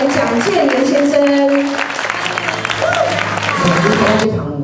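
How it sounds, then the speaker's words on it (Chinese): An audience at an outdoor Taiwanese opera performance applauding to welcome the director, steady clapping throughout while people talk over it through loudspeakers. "掌声欢迎我们的导演蒋建明先生"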